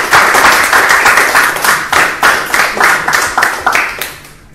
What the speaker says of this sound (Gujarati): આપણે આમ થોડી તાળીઓ પાડી શકીએ આટલી બધી પ્રમાણિક?